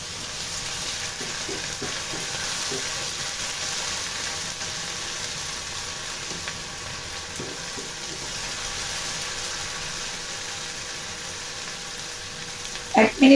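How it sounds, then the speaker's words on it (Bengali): Green chilies with ginger paste and garlic paste sizzle steadily in a hot pan for beef brain fry, with scraping stir strokes and a few sharper clinks near the end. "একটু নাড়াচাড়া করে ১ চা চামচ আদা বাটা ও ১ চা চামচ রসুন বাটা দিয়ে"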